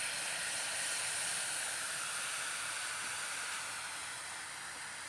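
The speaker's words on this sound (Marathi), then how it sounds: "पाणी पूर्ण उकळलं की पिठामध्ये ओतायचं" Water heats to a boil on a griddle for millet flatbread dough, giving a steady, loud hiss and bubbling that eases slightly toward the end.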